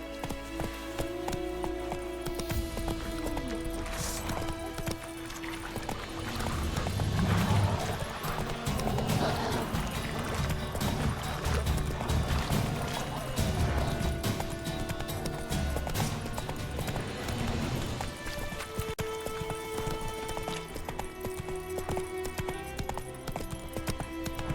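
Horse hooves clip-clop at a steady gallop through The Witcher 3, rhythmic beats continuing under game music and ambient sound for the whole stretch.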